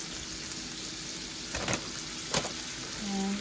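Precooked bacon crumbles heating in a pan make a steady close sizzle, with a couple of brief stirring scrapes in the middle and a low tonal hum creeping in near the end; no one speaks.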